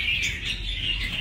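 A caged red-whiskered bulbul (chào mào) sings a sustained run of bright chirps and warbling notes, clear and fairly close, with no talking.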